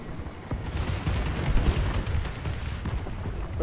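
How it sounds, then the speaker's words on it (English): Enemy bombing run in the Call of Duty: Advanced Warfare video game, heard as a sustained roar of rumbling explosions and booms, fairly loud and continuous with overlapping blasts. "Enemy bombing run overhead!"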